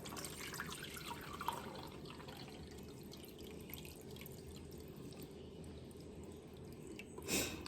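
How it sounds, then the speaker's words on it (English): Water pours steadily into a crock pot, a faint continuous trickle and splash lasting several seconds with a brief louder burst near the end. "Pour water."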